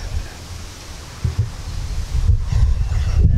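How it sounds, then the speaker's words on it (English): Gusty wind buffets the microphone outdoors in a vegetable garden with low rumbling noise that swells louder toward the end, with faint rustling mixed in. "it's very windy. So hopefully the microphone is doing great because it's very, very windy"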